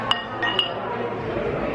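Drinking glasses clink together in a toast among family at a table, two or three bright, sharp chimes early on ringing briefly over soft room murmur.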